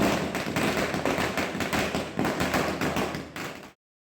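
Firecrackers set off outdoors during Diwali celebrations, heard as a dense run of close, loud pops and thuds in rapid irregular succession, cutting off abruptly near the end.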